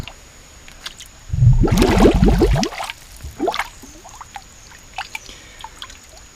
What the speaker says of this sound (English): Clean spring water.